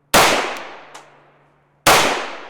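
Two sharp handgun shots from a Walther pistol firing Winchester frangible ammunition, loud and close, spaced under two seconds apart, each with a short ringing decay.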